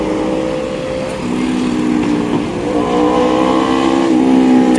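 Steady road traffic on the Davao City Diversion Road super highway near the crocodile farm area, with continuous engine rumble from passing cars and trucks, one vehicle's pitch climbing as it accelerates past, fairly loud and close.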